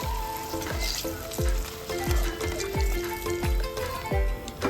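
Eggplant slices coated in starch bubble and sizzle in hot oil, a close, continuous frying hiss broken by recurring soft thumps roughly every half second. No one speaks.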